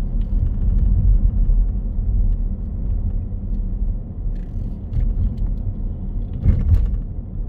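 A car drives on a city street and picks up speed again after slowing for a raised crossing, its engine a low steady rumble with road noise and a few faint clicks and bumps.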